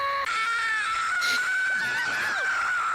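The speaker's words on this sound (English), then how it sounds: "Let's all scream together." Several voices scream together in a long, sustained, loud, high-pitched shriek from a streamer's audience, close and dense, tapering slightly toward the end.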